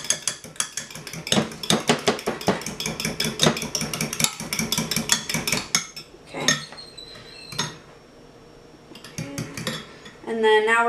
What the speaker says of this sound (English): And now just whisk this really well together.